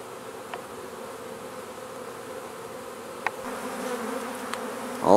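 A honeybee swarm in flight around a tree branch, a steady, dense buzzing drone from many bees that holds throughout, with the odd louder bee passing close.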